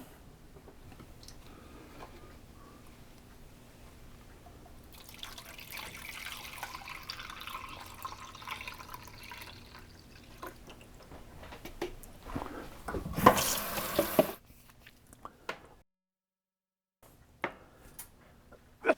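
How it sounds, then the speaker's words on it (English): Cleaning liquid is poured into an ultrasonic cleaner, a soft, faint trickling and splashing of fluid that builds gradually, with a louder splash near the end before the room goes quiet. "Next, we'll pour this liquid into it."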